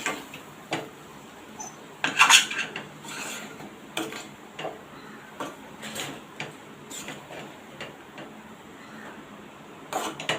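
Potato mixture sautéing in a pan, heard as steady scraping and stirring strokes of a spatula against the pan, fairly close, with repeated rasping sweeps and occasional sharper clinks, no talking.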